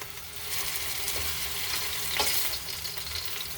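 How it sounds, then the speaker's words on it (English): Skipjack tuna sears in hot oil with garlic, sizzling and popping steadily and fairly loudly close by for a few seconds, with no talking. "the oil is popping a little bit"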